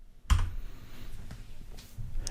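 A single sharp press of the F4 key on a computer keyboard while working in an Excel spreadsheet, one loud near click followed by a few faint softer clicks.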